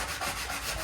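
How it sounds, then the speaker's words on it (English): A steady, close scratchy rubbing, a sanding sponge worked back and forth over painted drywall, heard alone without speech. "So we use a sanding sponge just to"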